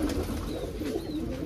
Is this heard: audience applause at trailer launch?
no